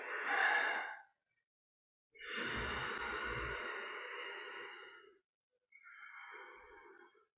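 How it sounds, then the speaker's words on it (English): Forceful breaths in and out through the nose during a yoga twist: three strong, airy rushes separated by silent pauses, the middle one longest, each close and clearly audible with no talking. "Strongly in and out through the nose."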